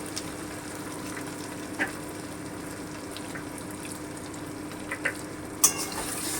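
Coriander powder frying in a pan gives a low, steady sizzle, with a few scattered clinks and scrapes of stirring, quiet and without talking.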